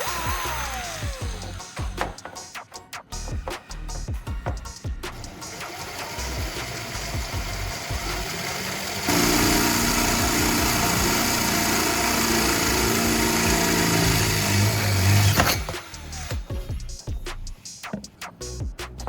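A steady, high-pitched power drill whines continuously through the middle as it drills into an old metal WD-40 bottle, with rougher, clattering tool noise before and after.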